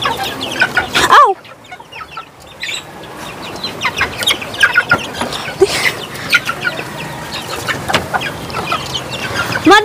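Gamecock rooster clucking repeatedly in a busy farmyard, short clucks and calls scattered through a dense, steady background of other fowl and outdoor noise, fairly close and loud.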